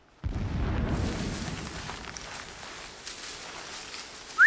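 A deep explosion booms in the Horizon Zero Dawn video game, a heavy low rumble that fades slowly over a few seconds before a sharp new burst at the end; no speech.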